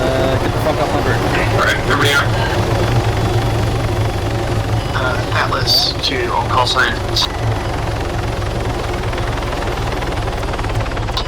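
A helicopter flies in the ArmA 3 SOG game, its loud, continuous rotor and engine roar filling the scene while radio-style voices and brief chirps cut in over it.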